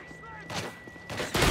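An MP5 automatic gun fires in Call of Duty: Modern Warfare 3 Special Ops, with short bursts of shots that grow louder toward the end, mixed with game sounds and a voice talking.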